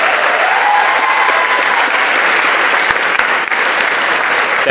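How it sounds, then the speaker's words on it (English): Loud, sustained applause from an awards ceremony audience honoring recipients, a thick even roar of clapping with a few sharper claps standing out near the end. "Ladies and gentlemen, please give another round of applause for our recipients tonight."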